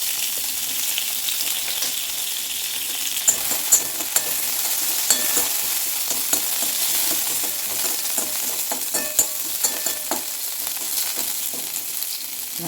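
Curry leaves and coriander sautéing in hot oil for a broccoli soup, a steady close sizzle with scattered crackles and spatula scrapes, no talk.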